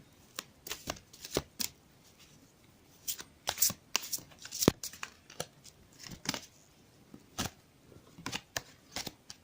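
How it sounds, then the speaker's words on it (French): Tarot cards riffled and shuffled by hand during a cartomancy reading, a run of crisp, close papery bursts with short pauses between them, heard alone without talk. "je vais continuer à battre les cartes"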